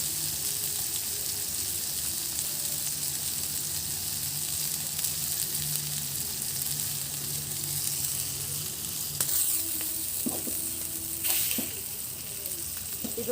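Quail frying slowly over a low flame in a pan, a steady close crackling sizzle with occasional sharper pops and a brief stir of spatula sounds near the end.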